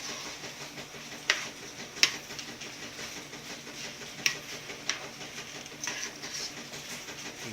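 A pot of salted water boils on a stovetop, giving a steady soft hiss and bubbling with a few sharp clicks scattered through it, no voices.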